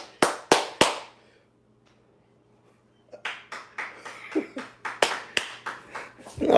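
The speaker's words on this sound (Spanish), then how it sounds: "Den un aplauso ahí." At a church service, a congregation claps in crisp bursts. Three sharp claps are followed by a pause of near silence, then rhythmic clapping picks up again and builds toward the end.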